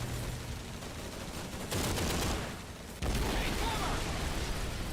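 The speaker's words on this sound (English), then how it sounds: "Oh, that explosion is so bad, but whatever." Loud bursts of gunfire and explosions in the wartime video game Call of Duty 3, with a sudden heavy blast near the middle and a second jump into a dense, noisy barrage that continues to the end.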